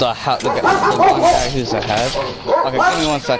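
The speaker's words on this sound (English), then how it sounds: "That was my dog." A dog in a room barks and yips excitedly in several quick bursts, close and loud, mixed with someone talking at the same time.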